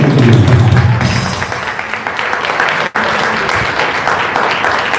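An audience claps together in a dense, sustained round of applause at an evening devotional song gathering during the Daslakshan festival, with a brief low murmur of voices at the start.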